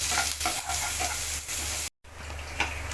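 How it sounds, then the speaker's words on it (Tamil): Onions sautéing in a pan for a quick breakfast dish, a steady close sizzle with scraping stir strokes, briefly cut to silence before the frying resumes. "லைட் பிங்கிஷாக வந்து வர வரைக்கும் நல்லா நம்ம வந்து வதக்கிக்கலாம்."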